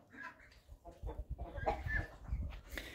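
Hens clucking inside a backyard coop among nesting boxes, several birds overlapping in irregular bursts of clucks and short squawks, moderately close and steady throughout, with no talking.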